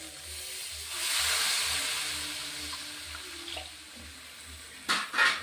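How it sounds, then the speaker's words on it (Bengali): Water poured into a pan of egg curry, a soft steady splashing hiss that swells and then fades, ending with a couple of brief clatters, with no talking. "এখন আমি জল দিয়ে দেবো"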